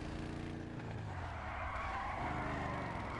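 A car in the GTA Online video game revs its engine while its tires skid and squeal, a continuous, steady roar with no voices over it.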